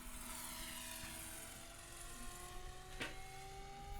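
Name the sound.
aerobatic plane starting a stall turn manoeuvre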